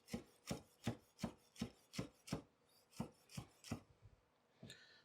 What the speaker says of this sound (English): got some spring onion here. I'm just going to cut for a little bit of garnish.